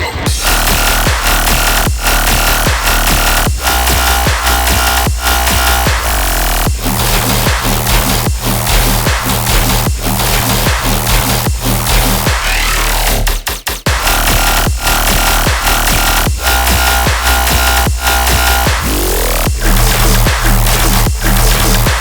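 A modern dubstep track built from heavy saturated bass with disperser and reverb, bass fills and bass variations, and a pre-drop leading into the drop. It plays loud and continuous, with steady rhythmic hits and a brief break near the middle.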